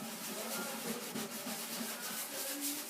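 Scotch-Brite pad scrubbing denatured alcohol over the binding of a 1939 Harmony guitar, giving a steady, close, continuous rough rubbing and swishing with no talking.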